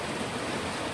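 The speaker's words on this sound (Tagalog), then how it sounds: "lakas ng ulan" Heavy rain falls in a steady, dense hiss, an even wash of noise with no distinct drops standing out, moderately quiet and continuous for the brief moment.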